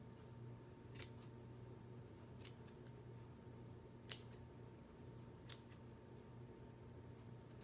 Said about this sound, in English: we're just going to snip the other side of this